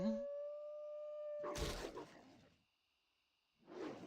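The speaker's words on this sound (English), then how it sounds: "This guy howls." A creature's long tonal howl rises and holds in a World of Warcraft hunter speedrun, followed by a burst of combat noise, then near silence and a brief later flurry.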